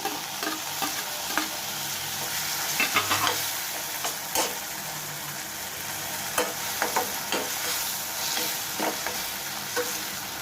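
Tomatoes going into ginger-garlic paste frying in a pan, a constant dense sizzle broken by repeated stirring clatters and scrapes, close and fairly loud.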